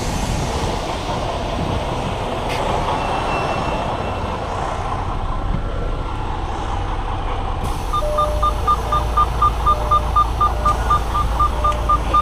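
A truck idles loudly, then backs up toward a trailer with a steady series of close, evenly spaced reversing beeps over the rumbling engine and a brief hiss of air.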